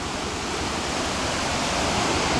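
River water rushing steadily beside a car wash stop on an overland route through Afghanistan, a loud, dense and unbroken flow with no voices over it.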